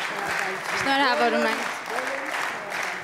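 An audience applauds at an award ceremony as a prize is handed over, a continuous patter of clapping from a crowd while a presenter speaks over it.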